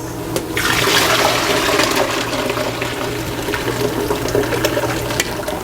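Cooked cabbage poured into a colander at a kitchen sink, a loud, steady rush of draining water splashing for several seconds with no talking.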